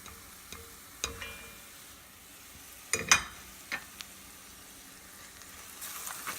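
Spices are stirred in a pan with meat for a meat and potato curry: a faint low sizzle is broken by a handful of sharp scraping knocks and clicks from the spoon, clustered near the middle.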